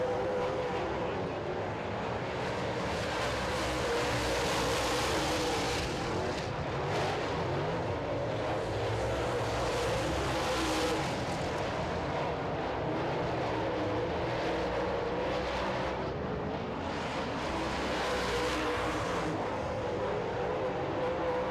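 Late model stock cars race side by side on a track, their engines making a loud, steady roar that swells and fades as the pack passes.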